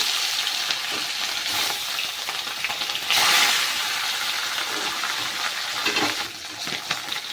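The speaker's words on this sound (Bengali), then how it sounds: "বাকি মাছগুলো ভেজে নেব" Pieces of rohu fish fry in hot oil, a loud, steady crackling sizzle close by with brief bursts of spattering and occasional clinks of a utensil.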